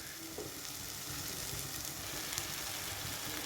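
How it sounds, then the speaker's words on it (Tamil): Whole oyster mushrooms, about 300 grams, go into hot masala for a biryani and set off a loud, continuous sizzle and crackle of frying that holds steady throughout. "மசாலாவோட பச்சை வாசனை எல்லாம் போனதுக்கப்புறமா நம்ம சிப்பி காளானை இது கூட சேர்த்துக்குவோம்"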